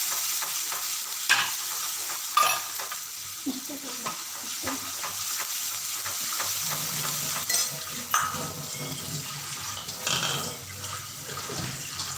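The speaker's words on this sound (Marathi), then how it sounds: "मसाला परतवत असताना आपला गॅस थोडासा मध्यम आचेवरच राहू द्यायचा" Ground onion masala paste stir-fried in a pan over medium heat for a moong dal dish: a steady hiss of frying, with a spatula scraping and knocking at irregular intervals, close and fairly loud, with no talking.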